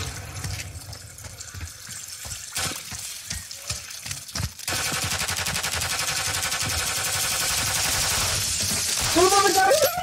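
Shotgun blasts ring out during a Call of Duty MW3 match, sharp and irregular. The first half is sparse with scattered voices, and a dense, sustained wash of noise follows.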